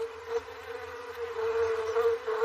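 Honey bees swarming around an opened garden hive in a British summer give a dense, steady, close buzzing drone that swells and dips slightly throughout, with no talk.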